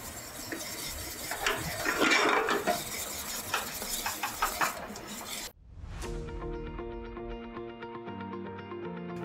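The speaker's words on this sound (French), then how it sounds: "On ajoute le bicarbonate de soude et on fouette." Whisking a mixture after baking soda is added, rapid rhythmic metal-on-bowl scraping and clinking up close for several seconds, then cutting to a sustained tonal background.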